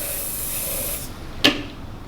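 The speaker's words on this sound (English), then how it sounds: "And a little squirt of hairspray." An aerosol hairspray hisses for about a second into a water cycle science demonstration, stops, then a short, sharp puff of spray follows.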